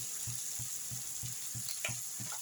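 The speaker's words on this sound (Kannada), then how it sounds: "ಸಣ್ಣ ಉರಿ ಇಟ್ಕೊಂಡು ಸ್ವಲ್ಪ ಈ ಥರ ಫ್ರೈ ಮಾಡೋಣ" Tomato, onion and chilli fry in a pan with vangibath powder over low heat, giving a steady close sizzle. Regular stirring scrapes land roughly every third of a second, and no one speaks.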